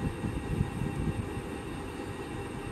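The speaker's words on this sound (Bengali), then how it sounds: "ট্রেন আসছে বন্ধুরা" Low, steady rumble of an empty train approaching a station, faint and distant, with a continuous mechanical drone and no voices.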